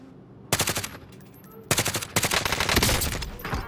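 Automatic gunfire in a video game comes in several long, loud rapid-fire bursts, with a short pause between them and then nearly continuous shooting.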